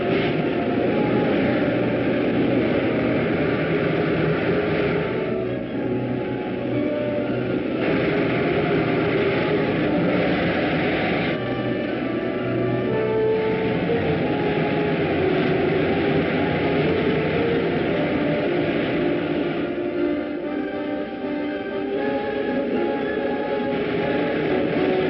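Rocket main jets firing as a 1950s film serial sound effect: a steady, loud roaring rush with rumbling texture that holds unbroken for the whole stretch, with no voices over it.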